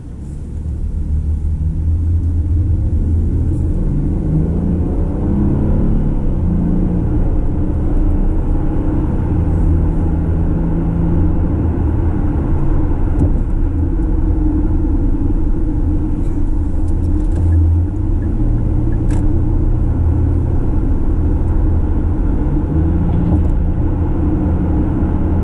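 A 2015 Hyundai Equus sedan pulling away and cruising, heard from inside as a steady, deep engine and road rumble that holds level without talk.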